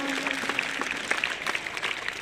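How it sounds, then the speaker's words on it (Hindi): Applause from a school gathering celebrating a student, a brief, steady patter of many clapping hands at moderate distance. "जोरदार तालियां।"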